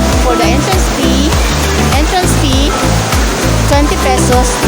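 Clear, fresh water of a river at a resort in the Philippines rushes and splashes loudly and close, under a low rhythmic thumping.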